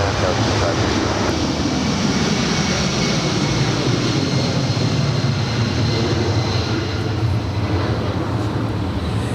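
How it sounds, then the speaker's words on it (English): A Delta Boeing 757-200 jet departs Los Angeles International Airport bound for Boston, its engines producing a loud, steady broadband roar throughout that holds constant across the clip. "This departure is Delta 420 departing to Boston. It's a 757-200."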